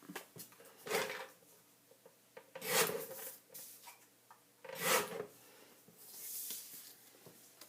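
Scissors or a trimmer cutting paper for a scrapbook page, several separate close rasping cuts in short bursts with quiet pauses between them.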